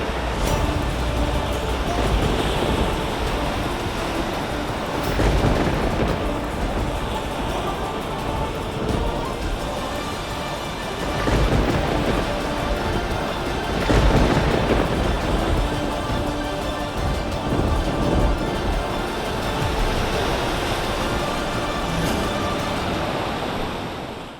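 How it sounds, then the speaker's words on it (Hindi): A violent storm at sea roars with crashing waves, pounding rain and rolling thunder, loud and continuous with surging swells throughout. "बहुत ही भयंकर तूफान आ रहा है।"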